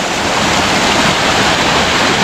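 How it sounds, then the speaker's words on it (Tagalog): A roadside waterfall on Marilaque Road in Sta. Maria, Laguna, gives a steady, loud rush of flowing water. It fills the moment with a dense, unbroken roar and no voices. "waterfall"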